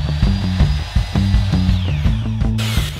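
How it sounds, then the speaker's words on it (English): A power drill bores oversized holes through small MDF scrap tabs, motor whining and rising in a few close, loud pulsing runs with no talk. "I'm drilling some oversized holes so the tabs will be able to pivot around on the screws."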